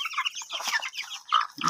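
Native chickens cluck and chirp in quick, close bursts, several birds overlapping in a brief busy flurry.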